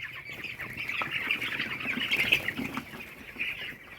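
Sick broiler chickens in a brooder house with brooder pneumonia make constant raspy, squawking calls at moderate distance, a continuous flock chatter with no talking.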